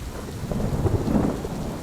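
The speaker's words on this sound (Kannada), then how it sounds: "ಮಳೆ ಕೂಡ ಜೋರಾಗಿ ಬರುತ್ತೆ." Heavy rain with thunder in a cartoon story about a rainy night: a brief, dense wash of pouring rain with a low rumbling roll of thunder underneath, moderately loud and with no voices.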